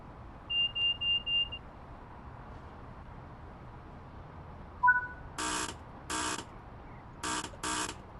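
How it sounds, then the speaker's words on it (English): Buzzer sounding outside a train in the Train Sim World 6 video game: four short, harsh buzzes in two pairs, fairly loud over a quiet cab hum, after a few thin electronic beeps. "Do like you can hear a buzzer from outside."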